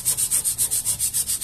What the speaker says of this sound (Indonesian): kita amplas halus seperti ini